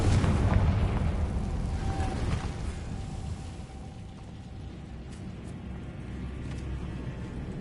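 Confringo spell explosion in Hogwarts Legacy, a heavy booming blast that is loudest at the start and then rumbles and fades into a low, sustained roar.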